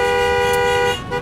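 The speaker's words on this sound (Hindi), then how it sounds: "अर्जुन तू हॉर्न बजा रहा है।" A car horn blares in one long, loud, continuous honk on a street at night, cutting off abruptly near the end.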